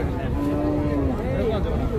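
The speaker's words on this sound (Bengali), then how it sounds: "এখানেও এক জোড়া পালার উপযোগী ছোট বাছুর আছে" A young calf at a cattle market gives one drawn-out moo, then a second shorter one, close by over a busy, murmuring crowd.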